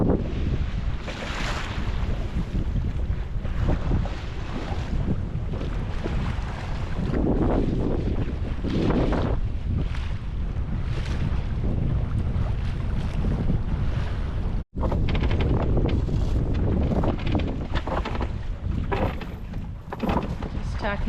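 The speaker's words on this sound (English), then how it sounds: "Just tacking back out so Mark can get this chain out." A sailboat tacks in strong wind, with wind roar buffeting the microphone, water rushing against the hull and flapping gusts throughout, continuous and loud with a brief dropout midway.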